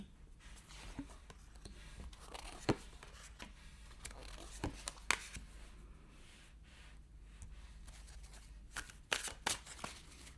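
A deck of cards being shuffled and handled at close range, with irregular riffles, snaps and soft slides scattered over a quiet background.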